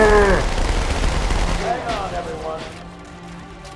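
Submachine-gun fire in the Halo 2 Cairo Station multiplayer map, a loud dense burst of rapid shots at the start that fades into scattered distant gunfire, with a player talking over it.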